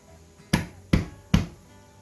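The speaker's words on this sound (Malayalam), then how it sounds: "നമുക്ക് ഈ ബോണിൻ്റെ അറ്റം കുറച്ച് കട്ട് ചെയ്യാം." Three sharp knife chops on a board, evenly spaced about 0.4 seconds apart, cutting off the bone ends of chicken wings for chicken lollipops; close and distinct against a quiet kitchen.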